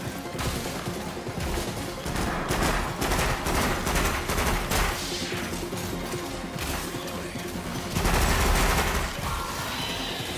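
Sustained gunfire in the VR shooter After The Fall, dense rapid bursts of shots layered with crashes and mechanical clatter, loud and close throughout with a heavier surge near the end.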